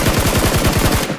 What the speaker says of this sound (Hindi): मतलब देखो ये फायर किया